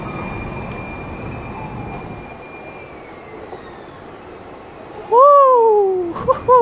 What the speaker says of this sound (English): It's a one car new train.